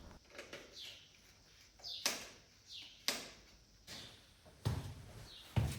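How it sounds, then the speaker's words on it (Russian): Quiet outdoor bird chirps at an apartment in Italy, a few short calls repeating, mixed with several sharp knocks and clatters from nearby work. "Одни птички поют"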